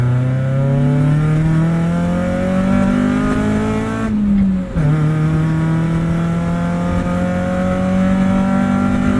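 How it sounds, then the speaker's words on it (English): A 1996 Acura Integra race car engine drones loud and close in third gear, pitch climbing steadily, then briefly dipping at a shift or tire chirp before pulling again. "You can chirp third in this thing."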